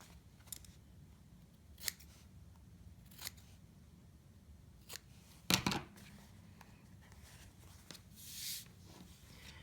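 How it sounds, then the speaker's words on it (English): Scissors snip the corners of sewn fabric in a few separate quiet clicks spaced a second or two apart, one sharper cut near the middle, close and faint over a low room hum. "I'm going to clip my corners, take a little bit of the bulk out of them."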